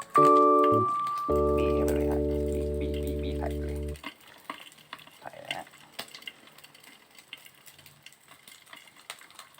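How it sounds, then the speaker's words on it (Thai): A loud sustained electronic tone plays for the first few seconds, then natural pork back fat frying in hot oil gives faint, irregular crackles and pops that continue alone to the end. "ตอนที่น้ำมันหมูกำลังเดือดนะ"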